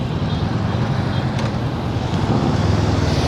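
Steady road noise from a Honda NX500 motorcycle on the road, with a constant engine drone and wind rush throughout and no talking.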